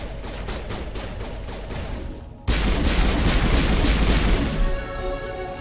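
Sustained gunfire from the sci-fi shooter Mass Effect Legendary Edition, a steady stream of shots that abruptly grows louder and denser halfway through into a heavy, continuous barrage with booming impacts.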